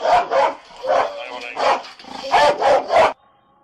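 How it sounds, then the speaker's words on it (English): A police dog barks repeatedly in loud, close bursts, about eight sharp barks in an uneven rhythm, during a police operation before falling silent. "We're gonna send that dog in."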